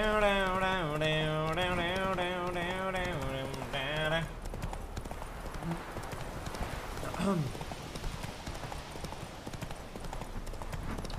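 Roach the horse trotting in The Witcher 3: steady clip-clopping hooves under game music, with someone talking over it and ambient game sounds continuing.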